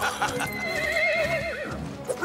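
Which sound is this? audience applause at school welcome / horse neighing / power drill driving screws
horse neighing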